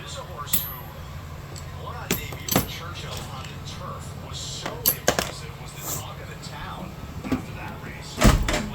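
A wrench drawer in a toolbox slides open with metallic clunks and tools clinking in sharp, scattered bursts, while someone speaks nearby.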